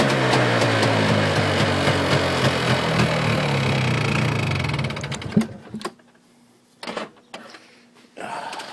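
A Polaris Xplorer 400 two-stroke ATV engine runs loud and buzzy for several seconds, then falters, sputters and cuts in and out in rough bursts as it struggles to idle.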